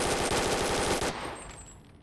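A personal defense weapon fires a rapid full-auto burst in the BONELAB video game, loud and close, then the shots stop and a short fading tail follows.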